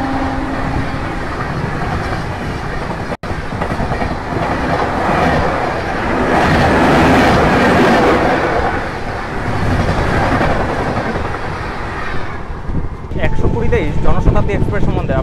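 The 12023 Howrah–Patna Jan Shatabdi Express, an Indian passenger train, running at speed: a loud, continuous rumble with rhythmic clickety-clack of wheels over rail joints, a brief sharp break near the start and metallic squeals toward the end.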